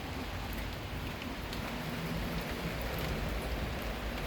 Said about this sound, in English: It's wonderful. All I can hear is rain.